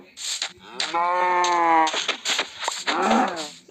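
Several video-game cows moo in long, drawn-out calls, one after another with brief gaps, loud and close, no talking.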